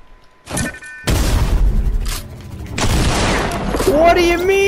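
Several heavy booming blasts from Fortnite's Shockwave Grenades, a brief thump followed by a long loud rumbling burst and further blasts, with a voice rising over the later part.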